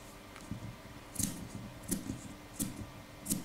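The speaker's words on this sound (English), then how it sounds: "So now we're going to snip the armholes just so that we have no tension here." Scissors snip the armholes of a flower girl's fabric dress: five or six crisp, close cuts in a steady rhythm, each a short sharp click with a brief rustle, alone in a quiet room.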